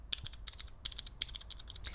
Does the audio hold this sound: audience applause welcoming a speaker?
no